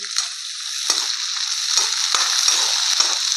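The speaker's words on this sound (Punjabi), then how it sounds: "ਪਿਆਜ਼ ਨੂੰ ਵੀ ਆਪਾਂ ਹੁਣ ਭੁੰਨ ਲਿਆਗਾ" Finely chopped onions frying in a pan for aloo baingan bharta give a loud, steady close-up sizzle, broken by a few scraping stirs, with no talking.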